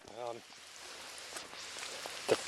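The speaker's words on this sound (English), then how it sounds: "obviously it's raining" Rain falls steadily as a soft, constant wash of hiss outdoors near a road, with a brief voice at the start and a small knock near the end.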